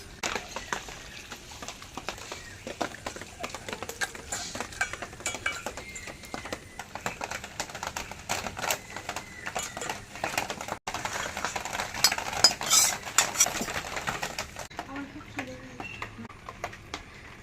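A spoon scrapes and taps over and over against a pan while crab curry is stirred after sugar goes in, making faint, irregular clinks and scrapes that run steadily for a long stretch.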